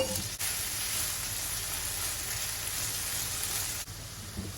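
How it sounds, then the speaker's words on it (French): Broccoli hitting a hot pan of pasta sauce with anchovies, giving a steady, continuous sizzle close by, broken by brief dips near the start and end. "J'y rajoute les brocolis."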